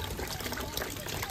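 Well water pours steadily into a container at home, a soft continuous trickling and splashing that stays fairly faint with a light noisy wash throughout.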